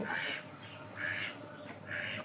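Khaki Campbell ducks on a farm quack in three loud, evenly spaced bursts close by, with no talking.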